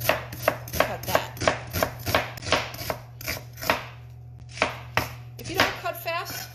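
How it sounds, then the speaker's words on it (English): French knife chopping an onion on a cutting board, a quick run of crisp, evenly spaced knife strikes close up, with a few slower cuts near the end. "I have the bottom of the onion down on the cutting board, and we're just going to go ahead and cut that."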